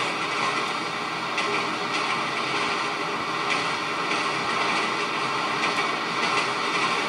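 Continuous rumbling roar of a moving train in the video game GTA 5, a dense steady noise with no clear breaks, heard without speech.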